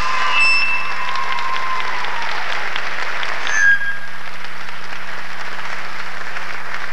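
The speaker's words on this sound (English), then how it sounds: "Give them another round of applause." Sustained applause from a concert audience at a polka show, a dense, steady wash of many hands clapping that carries on through the whole stretch, with no talk over it.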